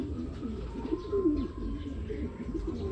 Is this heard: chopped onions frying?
no